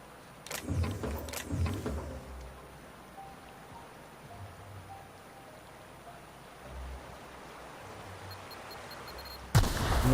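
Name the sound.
bomb explosion in the video game The Outer Worlds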